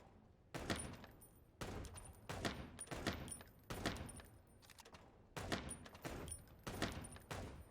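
Gunfire at a shooting range in the game Chicken Police: loud bursts of rapid shots in about six separate volleys, each a second or so long, with short pauses between them.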